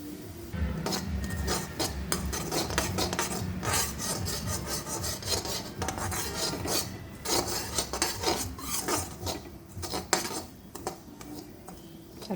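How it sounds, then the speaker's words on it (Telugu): Semolina (rava) roasting in a pan while being stirred, a steady rasping scrape of spoon against metal with dry grains shuffling, continuous and close throughout with no talk. "రవ్వ కూడా వేయించుకోవాలండి"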